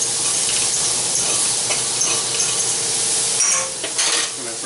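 Butter sizzles hard in a hot pan for a shrimp, asparagus and linguini dish, a dense close frying hiss with scraping stirs and light utensil clinks, and no talking.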